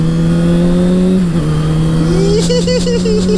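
Motorcycle engine under way on a first ride, a steady loud drone with a pitch dip and then a rise as the rider shifts and accelerates, no talking.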